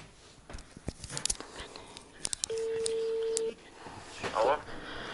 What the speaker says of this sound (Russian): Звоню на номер и включаю звук.